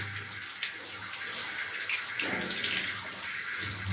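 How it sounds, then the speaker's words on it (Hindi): Hands being washed under a running tap, a steady splashing stream of water throughout with a brief swell midway, close and fairly loud, with no talk. "अब धो लो हाथ अपने। अब हाथ धो।"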